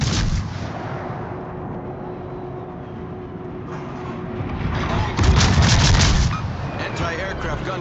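Warship guns fire in a World of Warships naval battle with deep booming salvos and rumbling low-end, swelling to a heavy burst midway, while voices talk over the din.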